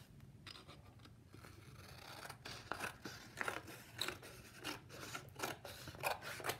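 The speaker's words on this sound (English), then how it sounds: "we're going to take the orange piece of construction paper now and we're going to cut two strips out of it" Scissors snip and rasp through orange construction paper while two strips are cut, making a close series of short crisp cuts and rustles that grows busier toward the end.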